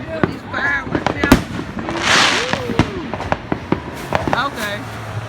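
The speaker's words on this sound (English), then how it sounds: "These fireworks here." Fireworks bursting during a Fourth of July family gathering with a barbecue, sharp cracks and pops scattered throughout, some close and loud, others distant, under people talking.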